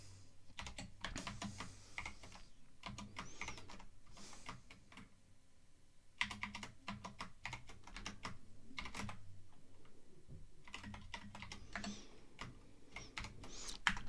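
Keystrokes on an external computer keyboard clatter in quick irregular bursts with brief pauses, close and fairly quiet, with no talking.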